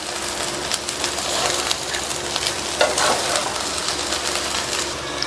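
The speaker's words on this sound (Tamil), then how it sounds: "கொத்தமல்லி இலைகள் சேர்த்துட்டு லைட்டாக ஒரு கிண்டி கொடுத்துடலாம்." Bread chilli with coriander leaves sizzling in a pan while a spoon gives it a light stir, a soft continuous hiss with scattered scraping clicks and no voices.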